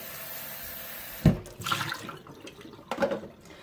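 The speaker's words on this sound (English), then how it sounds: "I have some fresh water in here, and I have this little bowl. I'm just going to give it a little rinse." A small bowl rinsed under fresh kitchen tap water: a sudden splash, then short bursts of running water and sloshing, close and fairly loud, with no talking.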